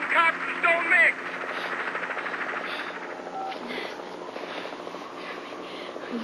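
A helicopter drones in gusty wind as a television drama sound effect, a steady rotor-like rumble and hiss that runs throughout under people talking.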